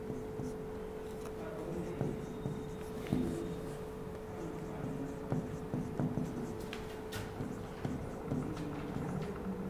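A formula written on a board, heard as quiet, irregular taps and scratchy strokes of the writing tool in a faint room with a low steady hum.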